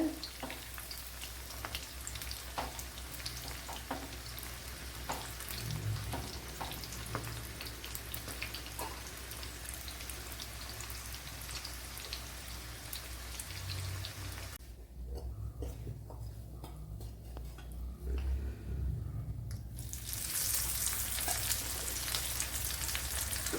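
Chickpeas coated in batter and cornflour sizzle steadily in hot oil, a continuous dense crackle with small pops, briefly quieter midway before the frying noise swells again loudly.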